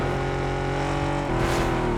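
Vehicle engine droning steadily while driving in PUBG, a loud continuous hum that shifts pitch partway through as the motor changes speed.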